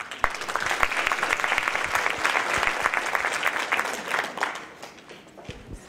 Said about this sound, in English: please let's give a warm round of applause for Delegate Mark Keem.